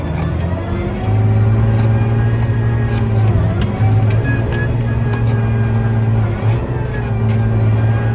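A John Deere 8300 tractor engine runs loud and close, a steady heavy drone that rises slightly in pitch as the 12th-to-13th gear shifts are made, with faint clicks and clunks over the hum.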